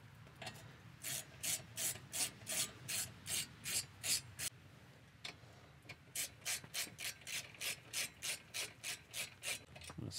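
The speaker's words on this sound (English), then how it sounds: "Slide it right back in place and run your caliper bolts back in." A ratchet spins caliper bolts back into Subaru rear brakes, giving two runs of quick, evenly spaced clicking separated by a short pause, close and clear in a quiet garage.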